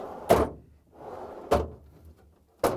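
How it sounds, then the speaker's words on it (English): A Whirlpool refrigerator door swings shut three times, each close with a solid thunk followed by a softer rustle before the next. "Close the door."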